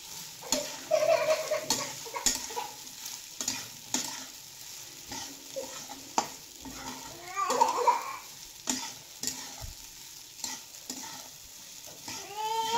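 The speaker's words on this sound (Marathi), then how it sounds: "आता हे घालून झाल्यानंतर चांगलं मिक्स करून घ्यायचं।" Spatula stirring fine sabudana khichdi with potatoes in a hot pan, steady scraping and soft sizzling in uneven strokes, close and moderately loud with no talk.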